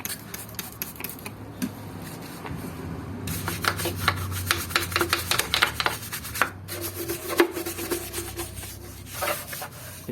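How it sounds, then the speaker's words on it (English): A stiff brush scrubs degreaser over grimy Honda Civic EG D15B engine parts, a steady rasping, rubbing scrub in uneven strokes up close, with no talking. "clean them up with a degreaser to remove the excess grease and dirt. And of course we need to use brush"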